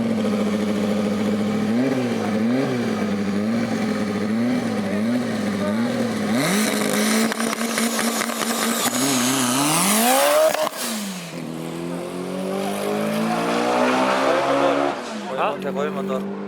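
A Nissan Sentra engine revs hard at a drag race, climbing through rising and falling pitches, then a sharp surge and a sudden drop before revving again, loud and close, with people talking over it.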